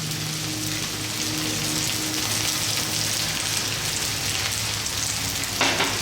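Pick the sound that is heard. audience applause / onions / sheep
onions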